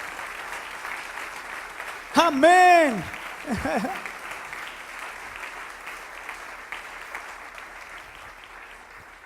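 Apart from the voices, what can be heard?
congregation applause in church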